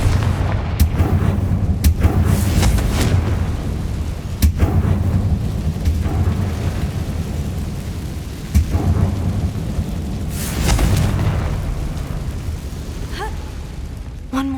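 Confringo fire spell blasts in the Hogwarts Legacy video game, with several sharp, booming impacts over a continuous loud rumbling backdrop.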